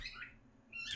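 Small birds chirp and tweet outdoors in a quick, bright burst, a couple of high calls close together against a quiet room background.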